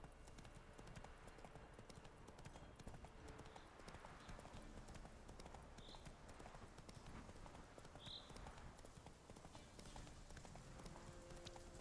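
Roach, a horse in a video game, gallops in a steady rapid clip-clop of hooves against a busy, noisy background, with a few brief high calls in between.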